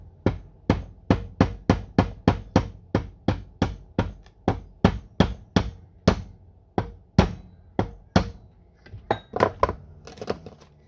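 A hammer strikes a penny on a hard surface while shaping trench art for a WW2 slouch hat, more than twenty sharp metallic blows in a quick steady rhythm that slows and thins toward the end.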